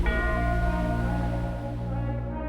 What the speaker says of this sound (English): When the opening bell sounds, Cassius Clay takes off running like a jackr